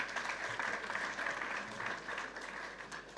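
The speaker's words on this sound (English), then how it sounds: "Let's clap for them." A crowd at a Skill Force Ghana 2025 youth event claps for a technical university delegation, steady massed applause at moderate volume that tapers slightly toward the end, with no speech over it.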